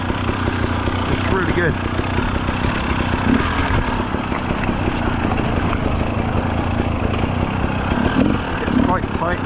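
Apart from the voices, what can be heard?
rebuilt 2017 KTM 300 dirt bike riding on single track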